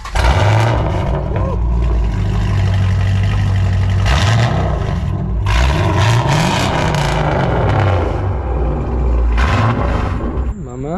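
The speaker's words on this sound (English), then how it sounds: "Turn on the car for you guys." A car at a Kendall, Florida car meet starts up and settles into a loud, steady rumbling idle, with a couple of brief throttle swells and people talking over the engine.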